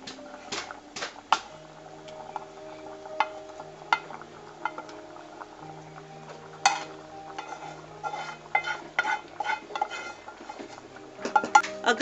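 A spoon scrapes and clinks against a pan while mashed chickpeas and masala are stirred for Punjabi chana masala, with irregular close knocks and scrapes throughout and a low steady hum underneath.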